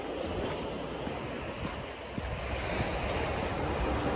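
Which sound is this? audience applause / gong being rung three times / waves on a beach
waves on a beach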